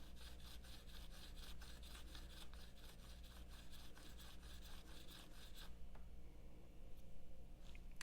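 A broadhead is stropped back and forth on cardboard coated with metal polish, giving a faint, rhythmic rubbing rasp in quick regular strokes that stop partway through, leaving quiet background hiss.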